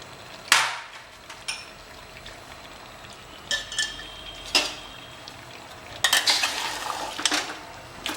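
Patiala-style mutton korma with ginger and no garlic is stirred and roasted in a pot: a few distinct metal clanks and scrapes of the spoon against the pot sit over a faint sizzle, loud and close.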